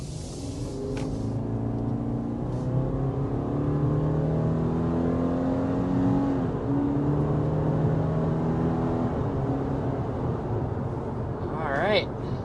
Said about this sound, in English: there is an acceleration up to about 60 miles per hour in the 2023 Forester